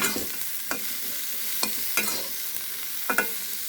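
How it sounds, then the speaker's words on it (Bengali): Cumin seeds hit hot oil for a rui fish curry with ridge gourd. A soft sizzle runs beneath several sharp scraping stirs of a spoon against the pan, spaced irregularly, with no voices. "তেল দিছি, তেল গরম হলে জিরা দিছি"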